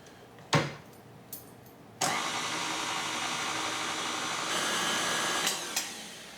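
An electric blender whirs steadily, blending sweet potatoes for a pie filling, starting with a few short pulses before settling into a continuous loud motor roar that runs to the end.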